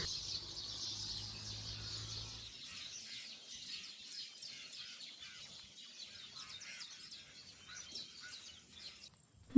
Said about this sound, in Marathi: पक्ष्यांचा किलबिलाट सुरू आहे